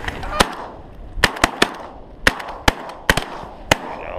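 Shotgun blasts ring out during a goose hunt in heavy wind, about nine sharp, loud reports in uneven bursts, some in quick pairs, over a rushing windy background.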